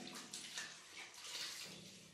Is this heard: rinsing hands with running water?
yes